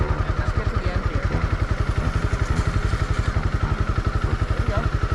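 A Honda CB300R motorcycle creeps forward at low speed with no throttle, its engine thumping in a steady, even pulse with light clatter, close by and continuous.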